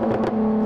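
BMW M4 car exhaust in GTA V gives a brief, steady droning hum with a couple of faint higher flutters, heard alone for under a second.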